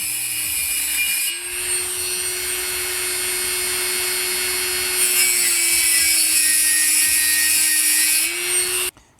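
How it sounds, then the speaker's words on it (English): A hacksaw with a bimetal blade cuts through steel strut for a truck cap roof rack. The rasping strokes are close and continuous, with a steady grinding tone that ends abruptly. "I happen to have a hacksaw and bimetal blade on hand."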